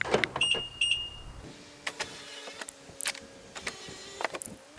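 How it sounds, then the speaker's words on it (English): BMW power windows worked from the key fob, starting with a few electronic beeps and then a faint whirring motor hum with scattered clicks, all close and with no talk. "now we can control the windows through the key fob"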